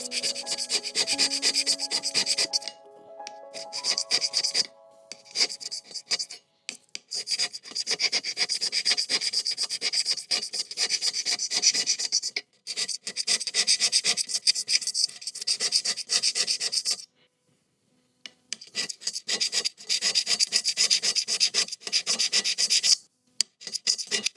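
Hand scraper working across a metal surface to remove blue marking, light repeated rasping strokes in irregular bursts with brief pauses, close and dry, no speech.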